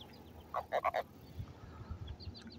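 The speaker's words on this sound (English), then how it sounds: "These little catfish croak and complain a lot." Small catfish pulled from the water croak in a quick run of three or four short, raspy grunts, close by, followed by quieter scattered sounds.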